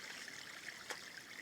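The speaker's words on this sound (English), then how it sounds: "you will pour this water outside in this way because it is very dirty" Dirty water poured out onto a river bank while sand is being made, a steady faint trickling, splashing flow running continuously with one brief louder splash near the end.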